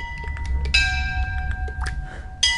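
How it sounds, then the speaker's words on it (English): Bright ringing chimes from a book in the Rec Room video game, several short bell-like tones struck one after another with sustained high notes, a louder burst near the start and another at the end, over a low background hum. "Do books usually make a ringing sound?"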